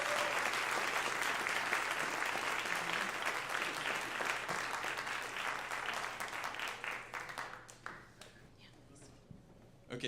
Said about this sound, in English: Can we give another round of applause for our panelists for being so insightful?